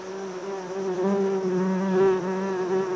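Bees buzz steadily nearby, a droning hum that wavers slightly in pitch without a break.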